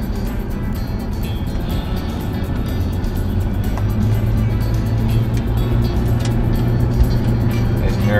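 A car accelerates up a cloverleaf ramp and merges onto a highway, its engine and tire roar steady and loud throughout, with a dense rush of road noise and wind building slightly toward the end.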